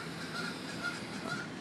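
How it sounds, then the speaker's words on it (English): Geese honk repeatedly in a city park, a faint, distant chorus of calls over soft outdoor ambience. "You guys hear the geese honking?"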